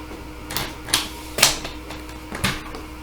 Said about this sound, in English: I'm going to bring in my trimmer here to get a nice straight edge